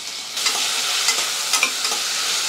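Tomatoes go into a hot pan of small sambar onions, a loud steady sizzle filling the space while a spoon stirs with quick scraping strokes.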